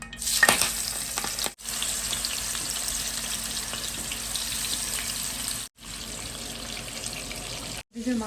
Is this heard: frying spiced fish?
yes